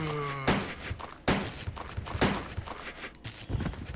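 Handgun fire from Resident Evil 2 cracks out in several separate shots spaced over a few seconds, each a sharp loud burst over a steady game background.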